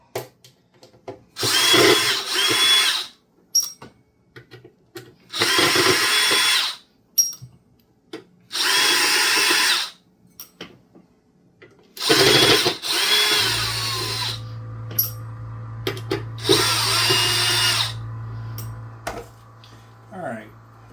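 A power drill unscrews the bottom screws of a Mackie 1202-VLZ Pro mixer with a bad power transformer, in about five loud whirring bursts separated by pauses, followed by a steady electrical hum and someone talking.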